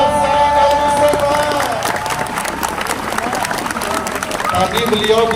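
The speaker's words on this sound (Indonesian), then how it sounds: "Tepuk tangan buat Sayyidina Mustafa." A crowd at a religious gathering claps and cheers loudly, with raised voices and shouting mixed into the continuous applause throughout.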